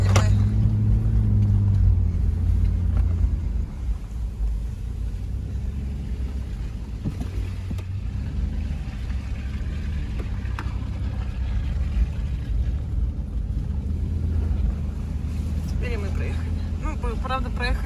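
A Nissan Patrol off-road SUV drives over rough terrain on Sakhalin, its engine a low steady rumble close by, with bumps and rattles from the cabin and people talking over it.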